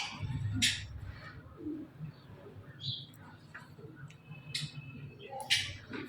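Newly bought pigeons coo softly in low, throaty murmurs in a pigeon setup, close and quiet, with a few sharp high chirps and rustling between them.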